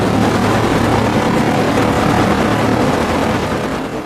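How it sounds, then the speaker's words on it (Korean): A very large wildfire roars loudly and without a break, a dense broadband rumble like several jet engines running, easing slightly toward the end. "그 소리는 제트 엔진을 여러 개 켠 것처럼 엄청났습니다."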